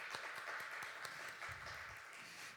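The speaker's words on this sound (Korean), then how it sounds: "같이 박수 한번." A church congregation claps to welcome a visiting friend during a Sunday worship service, a steady patter of many hands at moderate distance, sustained evenly through the moment.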